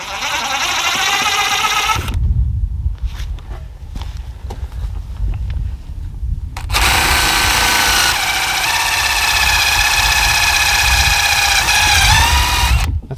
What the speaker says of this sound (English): She's kind of forced to use this little impact driver because I'm using the other drill on the mill.